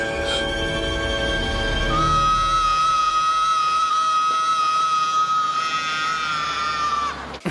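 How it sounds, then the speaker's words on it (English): A long, sustained scream from a Home Alone movie scene rings out loud and high for several seconds over a busy soundtrack, then cuts off sharply. "one single scream is enough to scare off any bad guy"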